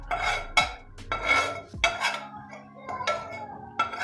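Fried tomatoes go into a pot of chicken neck curry, with a metal spoon clanking and scraping against the pan in several close, sharp bursts.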